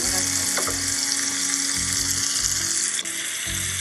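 Cumin seeds sizzling in hot oil in a pan while cooking an egg dish, a steady loud frying hiss with soft intermittent scraping stirs, no talking.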